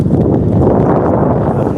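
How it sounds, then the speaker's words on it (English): Low, buffeting wind rumble batters the microphone at a windmill, loud and steady throughout the short stretch. "So you're probably hearing all the wind"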